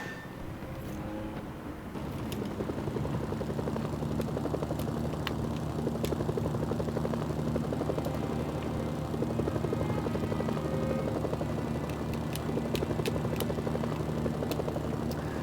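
A helicopter in the video game Mercenaries: Playground of Destruction flies with a continuous, loud rotor drone and engine whine, steady and close, with occasional sharp clicks and knocks layered on top.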